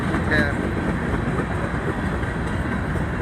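A northbound BNSF manifest freight train rolls past with a steady, continuous rumble and rail noise. A voice seems to be faintly present underneath.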